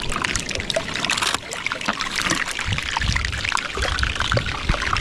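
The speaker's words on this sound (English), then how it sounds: "this iceberg's making crazy noises. It sounds like it's being deep fried." Dense crackling and popping fizz of an iceberg melting in seawater, like deep frying, with sloshing water underneath; continuous and close, no voices.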